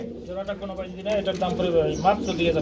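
Pair of White Beauty pigeons at a crowded pigeon market, soft repeated cooing running continuously beneath steady background chatter and voices.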